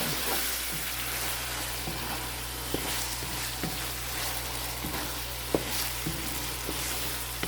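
Lean beef browns in a pan with a continuous close sizzle and a faint low hum, broken by occasional light utensil taps and scrapes; no voices.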